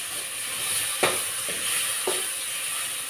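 Shrimp dropped into a hot pan for ginisang monggo, a constant frying sizzle with a few sharp splashes and pops as pieces hit the oil, no talking.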